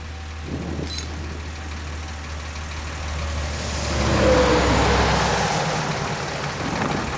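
A car engine in the hack-and-slash shooter game Wanted: Dead, with a buzzy motorbike-like drone that swells briefly, heard alone.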